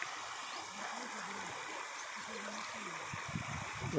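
Water from a dam release flowing down the Shel river at about 283 cusecs, a steady broadband rush and gurgle heard from nearby, with low murmuring voices beneath it.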